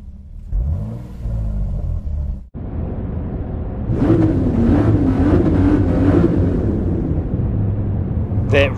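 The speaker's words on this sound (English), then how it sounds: "That rev though" A Toyota Supra and a Nissan Skyline GT-R R34 rumble nearby with loud, heavy engine noise, a brief cut, then a sustained rev that rises and holds for several seconds.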